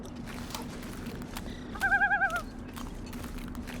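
In the video game The Long Dark, one harsh, warbling crow call rings out briefly over a steady low background hum.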